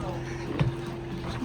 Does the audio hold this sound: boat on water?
yes